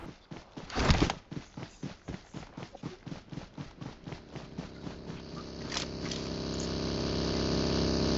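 A buggy's engine approaching in the battle royale game BGMI, heard first as a rapid series of rhythmic pulses, then building into a steady, swelling drone that grows louder toward the end.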